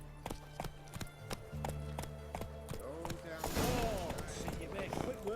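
Horse hooves clip-clop in an irregular rhythm while music plays beneath and a rider urges the mare on; the hoofbeats grow busier and louder toward the end.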